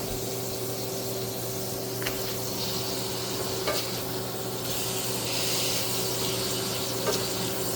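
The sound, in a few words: burgers frying in a pan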